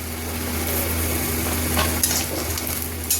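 Onions frying in a pan until light brown or pink, a steady close sizzle with a faint low hum behind it and a couple of soft scrapes near the end.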